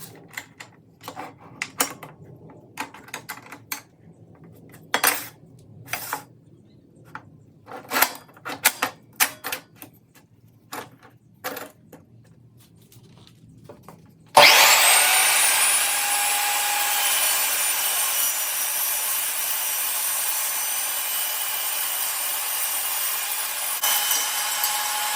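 Clicks and clunks of clamping and setup, then a metal-cutting saw spins up loudly and runs steadily for about ten seconds through 1/8-inch-thick stock at a 45-degree angle, close and continuous in a metalworking shop.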